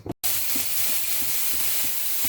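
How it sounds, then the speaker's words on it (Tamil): Cabbage kootu seasoned with rasam powder and salt simmers to a boil in a pot, giving a steady close hiss with soft low bubbling pops throughout, after a brief opening clatter. "ஒரு கொதி விடலாம்."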